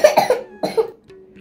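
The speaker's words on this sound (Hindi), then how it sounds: "खांसी आ रही मेरे बेटे को" A child coughs close by in two quick, harsh bursts, followed by a brief quiet.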